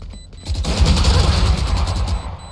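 Rapid automatic gunfire in the shooter game Valorant, a loud close burst of repeated shots lasting about two seconds after a brief quiet start.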